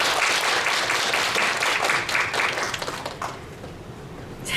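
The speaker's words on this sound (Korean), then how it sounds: "오늘 특강을 해주신 우리 하원필 박사님께 다시 한번 뜨거운 박수 부탁드립니다" Enthusiastic audience applause after a university special lecture on ultrafine dust, dense and fairly loud clapping from a roomful of students and staff that thins out toward the end.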